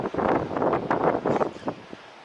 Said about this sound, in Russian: сейчас северный подул ветерок.